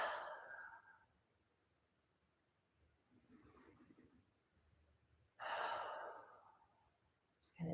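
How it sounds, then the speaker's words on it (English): Two soft, deep breaths taken in a quiet seated position, with a gentle airy inhale at the start and a fuller exhale later, separated by near silence. "Taking a nice deep breath."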